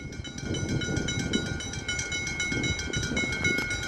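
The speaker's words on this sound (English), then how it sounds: "PT train ahoy!" A PT passenger train rolls past close by, a fairly quiet rumble with rhythmic wheel clatter and a faint high tonal whine from the train.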